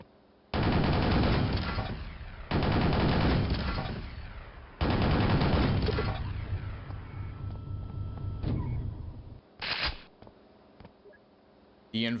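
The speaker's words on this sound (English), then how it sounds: "fires a barrage of 8 small rockets at a time, each dealing 55 damage" Multi mini missile launcher in Quake fires rocket barrages: loud rapid bursts of explosive launches in long volleys, then shorter scattered blasts and brief bangs near the end.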